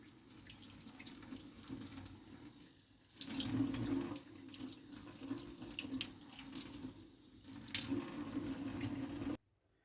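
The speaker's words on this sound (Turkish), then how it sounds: "Durulama işlemi birkaç defa tekrar edilir." Tap water runs steadily over hands during the rinse stage of surgical hand washing, a continuous close splashing flow that shifts in intensity as the hands move through the stream, with no talking.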